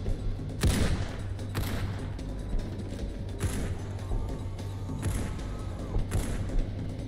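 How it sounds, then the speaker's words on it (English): Dense gunfire rattles through a video game trench battle, with rapid bursts, scattered sharp shots and dull booms over a steady low rumble of combat. "They're already shooting at us."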